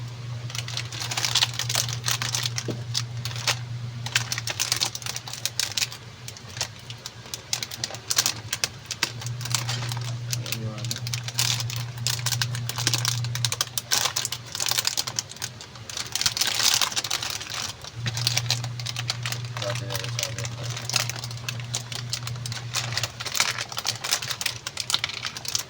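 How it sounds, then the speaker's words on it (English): Bag of Lego Technic Bugatti Bolide parts being opened and sorted, with rustling and clicking pieces going on throughout, while a dove coos repeatedly in the background. "So let's unbox this bag guys."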